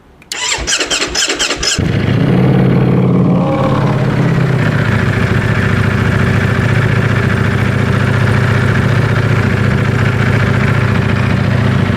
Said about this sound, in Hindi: अब सुनते हैं एक V4 इंजन की आवाज़